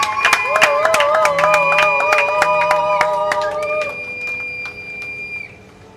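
A crowd cheering at a foundation wedding celebration, with sustained high ululating voices and whistles over clapping, loud and close, then fading toward the end.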